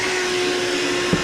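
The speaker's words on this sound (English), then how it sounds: "this is actually a pretty cool little vacuum" A battery-powered handheld vacuum cleaner runs steadily and close by, its constant whirring motor whine briefly broken by one small bump.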